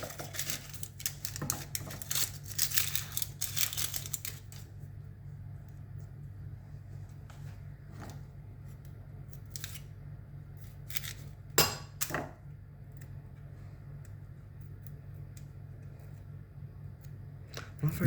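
A knife chops the ends off vegetables on a kitchen board, a quick run of close sharp knocks, then sparse single taps and clinks over a low steady hum.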